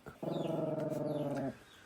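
A dog growls continuously and close by for over a second, a low rumbling snarl with rhythmic pulses, then stops.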